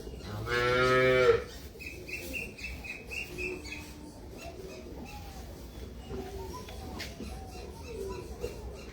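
A bull on a farm lets out one loud, close, drawn-out moo lasting about a second at the start, followed by quieter farmyard background with faint bird calls.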